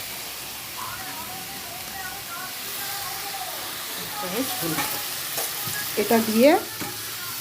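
Spices, salt, turmeric and ginger-chilli paste fry in a pan with a strong continuous sizzle and hiss, stirred now and then with scraping sounds, while someone speaks briefly over it.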